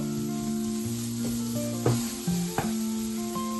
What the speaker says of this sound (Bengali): ভাজা মশলা দিয়ে আবার একটু নাড়াচাড়া করে